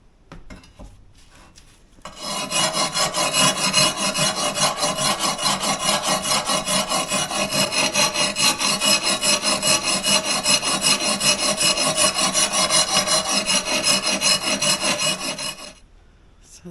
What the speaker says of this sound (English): so it's just trying to make the edge a little bit sharper so it cuts better